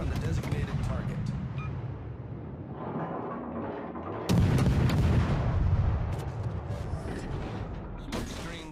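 Warship naval guns firing in World of Warships: heavy rumbling artillery salvos with a sharp, louder boom midway, followed by sustained mechanical rumble and scattered cracks.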